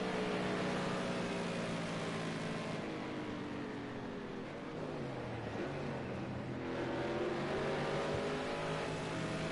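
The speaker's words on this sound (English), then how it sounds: "The BMW comes, flicks the gears." Onboard a BMW GT4 race car at Snetterton GP, the engine roars loudly and continuously, its pitch climbing through the revs, dipping at a gear shift and climbing again.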